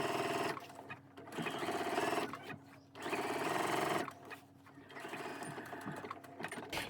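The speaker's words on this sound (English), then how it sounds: "I'm actually going to put it in my machine like this, and I'm going to sew down that fold line, the edge." A sewing machine stitches along the folded edge to hem a bag, running in three rapid bursts separated by short pauses, close and clear with no talk.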